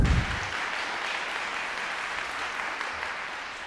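Audience applause in a hall after a Schubert piano recital, a steady wash of clapping that starts with a louder burst and then holds evenly, no voices heard.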